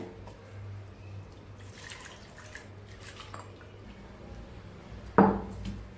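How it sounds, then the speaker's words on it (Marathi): A new stone mortar and pestle is rinsed with a little water, giving one short, fairly loud splash near the end after a long stretch of quiet, low background hum. "खलबत्ता थोडं थोडं पाणी घेऊन धुवून काढूया"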